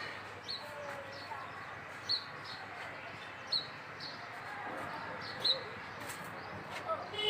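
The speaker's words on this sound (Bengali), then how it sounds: "পাখির আওয়াজ আছে" Birds call around a rooftop garden with mango and citrus trees, a pigeon cooing among them; short chirps and coos come every second or so over a soft steady background.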